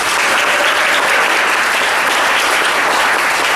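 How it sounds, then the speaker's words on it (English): A large audience at a Truth in Textbooks gathering in Sugar Land, 2019, bursts into loud, sustained applause, a dense, steady wash of clapping that holds at full strength throughout without talk. "So please give her a big round of applause."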